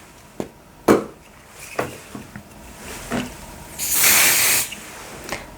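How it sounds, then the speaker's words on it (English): A cooling spray is applied to an insect bite at home. A few soft handling clicks come first, then a short, loud, hissing burst of spray lasting under a second. "you might want to try applying a cooling spray like this."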